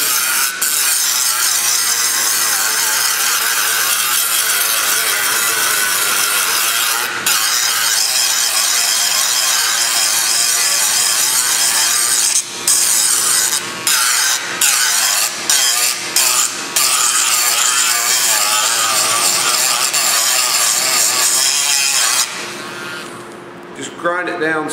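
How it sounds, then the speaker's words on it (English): A Dremel rotary tool grinds the edges of wooden duck decoy silhouettes, a continuous close, loud rasping whine that runs almost without a break, with a few short pauses near the end. "So you'll just take this Dremel here and just grind."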